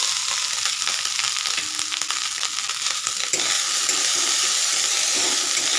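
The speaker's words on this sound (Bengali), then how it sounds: "আমি ভেজিসগুলো দিয়ে দিচ্ছি" Vegetables frying in a hot pan: a steady, dense sizzling hiss that stays close and loud throughout, with no pauses and no voices.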